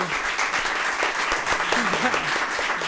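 An audience breaks into loud, sustained applause, many hands clapping together at once, with a voice briefly audible over it.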